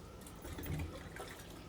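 Warm water is poured over a baby's shoulder at bath time in a brief, soft splash that swells and fades within a second or two. The room is otherwise quiet.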